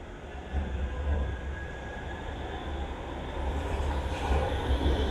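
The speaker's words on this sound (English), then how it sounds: "This tram is on its way to the airport when it gets out of the station." A Manchester Metrolink tram pulls out of Victoria station, a low rumble and wheel noise rising steadily as it moves away over the rails, with no voices.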